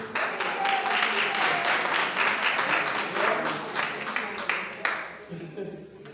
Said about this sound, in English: Clap it up for me.